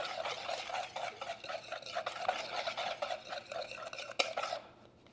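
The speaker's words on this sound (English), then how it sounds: "We're just gonna whisk this, get it all incorporated." A whisk stirs protein powder into boiled kettle water in a bowl or cup, a steady rhythmic scraping swish that repeats quickly and closely, ending with a clink and then fading.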